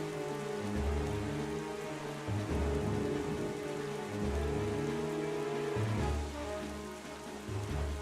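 Rain and stormy weather in The Legend of Zelda: The Wind Waker, a steady hiss of rainfall layered with dramatic, swelling music and low rumbling throughout.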